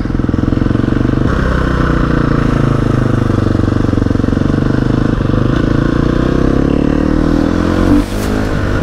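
Motorcycle engine droning loud and close while riding at night, a steady rough roar with rattling clatter and slight pitch shifts, nearly unbroken from start to finish.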